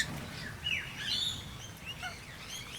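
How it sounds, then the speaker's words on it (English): Bird calls at a bird sanctuary: several thin, high chirps and short whistled notes from a few directions over a soft background hiss, with no talking. "bird call analysis. They have very complex calls."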